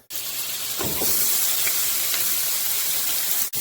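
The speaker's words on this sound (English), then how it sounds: "So we just want to saute the onions." Onions sautéing in olive oil and butter, a loud, close, steady hiss and sizzle that rises after a brief burst of spatter near the start and holds until it cuts off.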